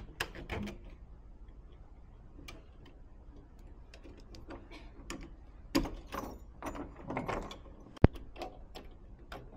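Sharp metallic clicks, rattles and knocks come from a jammed door lock mechanism being pulled and worked by hand, irregular and close, with one loud bang near the end.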